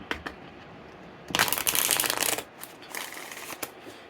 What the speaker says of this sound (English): we'll pull some Oracle cards